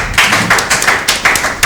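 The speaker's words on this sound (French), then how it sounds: "nous applaudissons donc les collèges de Saint-Théo" An audience applauds a Saint-Théophile college quiz team at a provincial contest. The clapping is brisk and fairly loud, with repeated broadband bursts over about two seconds and no talk.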